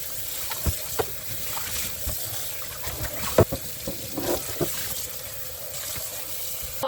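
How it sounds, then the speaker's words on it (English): Water runs steadily into a cooking pot being refilled with fresh water for cooking lamb lung, a continuous splashing stream close by, broken by a few sharp clinks and knocks. "So I'm gonna dump this and fill up new water."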